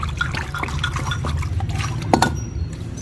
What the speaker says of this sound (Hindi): ये परिंदों को पानी देना है, ये ज़रूरी काम होता है।